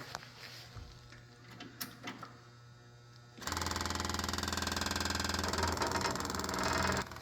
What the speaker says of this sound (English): Oh, crank it and see if it goes.